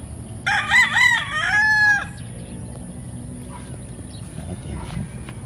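A big rooster on a Philippine breeding farm gives one loud, close crow lasting about a second and a half. Low farmyard background and faint sounds from other birds follow.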